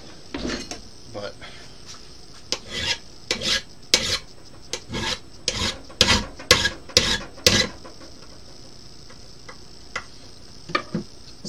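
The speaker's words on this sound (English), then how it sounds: "hit the end with a flat file" A flat file rasps across the end of a metal bolt to shorten it, a quick run of close, loud strokes in a steady rhythm, with sparse scrapes before and after.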